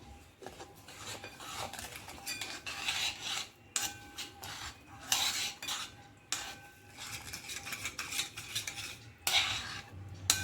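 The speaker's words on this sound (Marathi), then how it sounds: "हे सर्व आपल्याला मिक्स करून घ्यायचं आहे" Cornflour and cardamom powder being stirred into a mango ice cream mixture, close rhythmic scraping and rubbing of a spoon against a bowl with small metallic taps, in uneven bursts and pauses.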